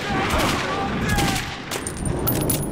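Rapid gunfire fills a firefight in Metro 2033 Redux. Dense bursts of shots crack back to back at close range, with a shout or two among them.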